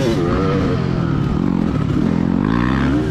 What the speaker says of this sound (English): Let's have fun riding our dirt bikes.